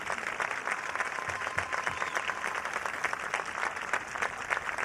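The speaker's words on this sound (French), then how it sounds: "Allez, encore un tonnerre d'applaudissements pour ces 3 cavaliers exceptionnels." A large outdoor crowd applauds three show jumping riders on the podium at the Chantilly event, a dense, continuous wash of clapping that holds steady and loud throughout.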